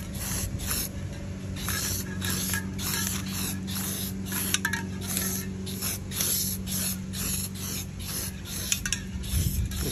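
Rust-Oleum Hammered spray paint hisses from an aerosol can onto a truck in a long run of rapid, evenly spaced bursts, laid on as a heavy coat, loud and close with no talking.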